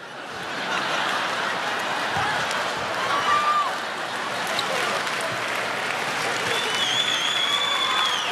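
Comedy club audience applauding throughout a stand-up set on Last Comic Standing, a dense steady wash of clapping with scattered chuckles, a few whistles near the end.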